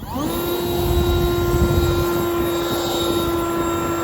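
A battery-powered blower whines steadily with a high tonal hum and airy rush as its battery runs down, running continuously and close by, without any voices.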